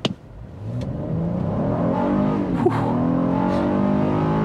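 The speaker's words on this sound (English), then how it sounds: "you're probably not going to want that engine screaming quite so loudly" A 2024 Honda Passport Trailsport SUV engine revs hard under full throttle, its pitch climbing steadily and loudly through the VTEC crossover after a brief click at the start.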